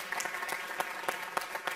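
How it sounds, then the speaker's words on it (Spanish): Brief applause from an audience for a jury member at an academic research presentation event, a soft scatter of claps with a few sharper hits, heard from a moderate distance. "Moltes gràcies per venir i un aplaudiment per ell també"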